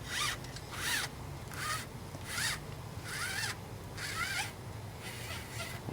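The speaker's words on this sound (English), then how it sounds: "So I'm going to pull the cable all the way through again." A shifter cable slides through bicycle cable housing in a series of short, close, zipper-like pulls. About seven strokes repeat at a steady rhythm over a low background hum.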